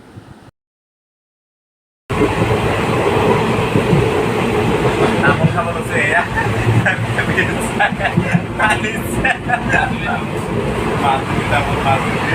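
Steady rumble and rhythmic clatter inside a moving train carriage, with voices talking over the noise after a brief silent gap at the start.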